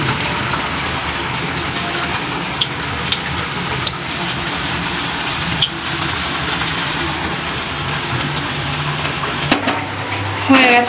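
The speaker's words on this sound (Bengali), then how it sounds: "খিচুড়ি সাথে বেগুন ভাজা হচ্ছে" Brinjal slices fry in hot oil in a Sundarban village kitchen, a loud, dense, continuous sizzle that shifts in tone near the end.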